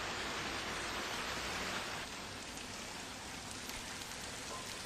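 Heavy rain pours steadily in Uttarkashi and Lucknow, a dense, even hiss of drops hitting surfaces with no pauses, continuous and fairly soft throughout.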